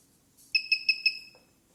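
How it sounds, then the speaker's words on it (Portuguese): Four quick, bright electronic beeps in an even rhythm as a device powers up, clean and close, then a brief faint click against near silence. "O equipamento já deu um bip sonoro"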